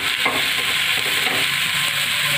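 Crushed fennel seeds and coriander drop into hot oil in a pan for a bitter gourd (karela) curry, giving a steady, close sizzle with stirring scrapes throughout, no talking.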